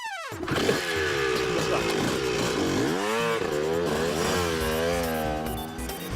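A cartoon motorcycle roars along in an animated chase, its engine note rising and falling in continuous revving swells, loud and close from start to finish.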